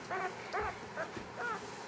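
A puppy whimpers and yips in short, high bursts, close by, repeating about four times over a faint room background with no talk.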